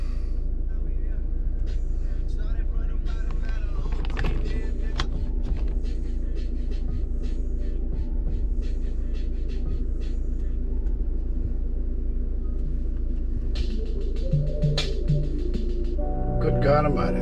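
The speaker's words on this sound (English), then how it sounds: "it's a real noisy car." Loud, steady low road rumble fills the cabin of a VW T6.1 van on the move, with engine drone underneath and occasional knocks and rattles, while people talk over it throughout.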